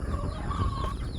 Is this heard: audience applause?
no